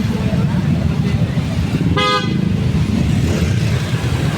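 Busy roadside traffic near a market, a steady rumble of passing vehicles with a single short car horn toot cutting through near the middle.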